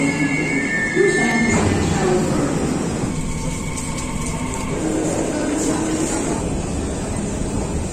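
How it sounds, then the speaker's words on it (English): Metro train ride through Istanbul, a steady loud rumble of the carriage running throughout with faint wheel squeal and brief tones near the start, and some indistinct voices mixed in. "Again, I took a metro to Üsküdar."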